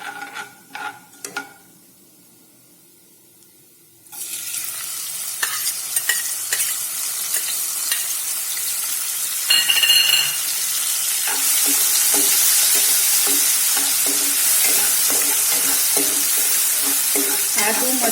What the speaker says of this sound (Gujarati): आदू, मरचा, लसण ने आपणे सारी रीते सातरीशुं